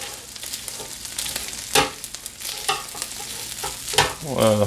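Peppers and onions cook on a griddle for a chopped cheesesteak, a close, busy sizzle broken by scraping and stirring bursts, with no voices.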